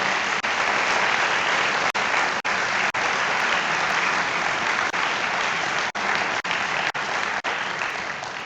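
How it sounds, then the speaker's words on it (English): Audience applause at an honors colloquium, a dense, steady clapping from a full room that holds through the whole stretch with a few sharper individual claps standing out, no talk over it. "Please give them a round of applause."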